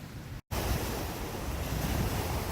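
Ocean waves roll in steadily near a beach campsite on the Olympic Coast, a dense, loud surf wash with wind noise on the microphone and a brief dropout near the start.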